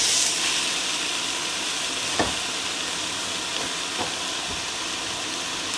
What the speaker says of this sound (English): Now I'm going to add 1 pound of ground beef.